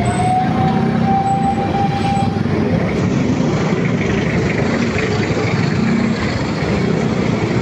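A fire truck siren wails loudly nearby over engine rumble and heavy traffic noise at a fire in San Joaquin, Pasig City, its tone sweeping and then cutting out partway through.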